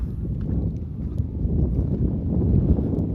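Strong wind gusts across the rocks in the middle of the Mekong River, a steady, rumbling low roar of buffeting air on the microphone with no voices.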